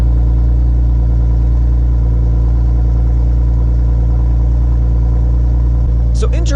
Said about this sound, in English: here's a little bit of cold idle sound